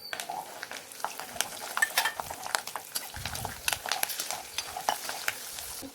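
Garlic, cumin and fenugreek fry in sesame oil for a prawn kuzhambu, a quiet crackling sizzle broken by light scraping and clicking of a utensil in the pan, close and fairly soft throughout.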